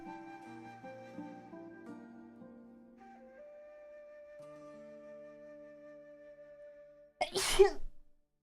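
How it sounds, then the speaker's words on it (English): One loud, explosive human sneeze bursts out at the end after several seconds of soft background music, close and abrupt. "I'm gonna sneeze again."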